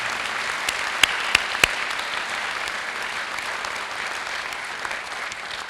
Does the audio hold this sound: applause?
yes